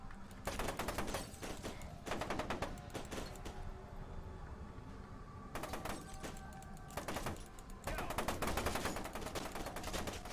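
Gunfire in F.E.A.R. 2 Project Origin, with loud repeated bursts of rapid automatic fire separated by short pauses and dense game noise throughout, no talk.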